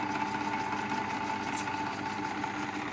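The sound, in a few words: bench drill press motor running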